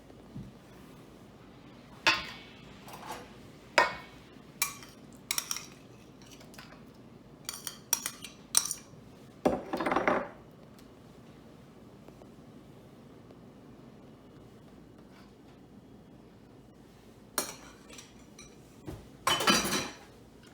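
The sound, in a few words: mixing butter into dough in a bowl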